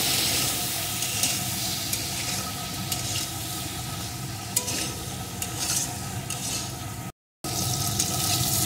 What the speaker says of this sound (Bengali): এখন আলুটাকেও লাল লাল করে ভেজে নেব।